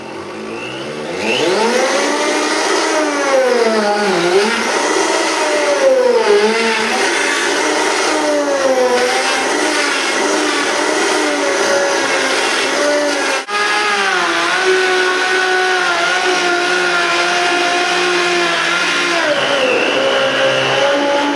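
Loud, close blender running on high as it purees pineapple for an energy drink, a steady whirring roar whose pitch rises and dips as the load shifts, continuous throughout.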